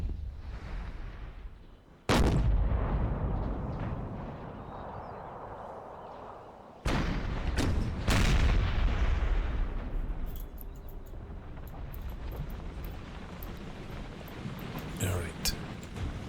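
Artillery booms across an Empire: Total War battlefield, with two heavy blasts several seconds apart and a lighter one later over a rumbling battle din, while someone talks throughout.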